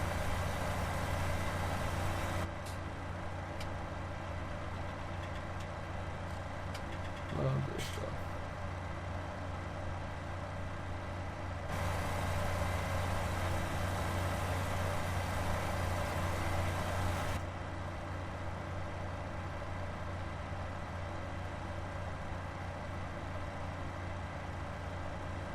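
Large tractor engine working a field with an 8-meter implement, a steady low drone and hum holding evenly throughout, close and continuous with slight shifts in tone.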